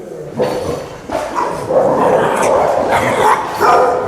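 A dog barks and yips in several short bursts at close range, excited and uneven, with a whimpering edge between barks and no talk over it.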